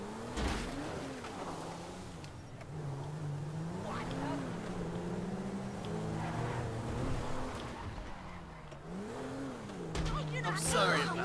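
A car engine hums and shifts pitch, rising and falling as it drives through the GTA 5 video game world, steady throughout with game sounds around it.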